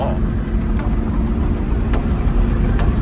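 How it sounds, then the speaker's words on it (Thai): A TATA 2.2 diesel vehicle with a shaking-engine fault revs up on a test drive, its steady loud engine drone close and continuous with faint road noise throughout. "เร่งได้ปกตินะครับ ลองขับเทสกันดูนะฮะ อัตราการเร่งดีนะครับ"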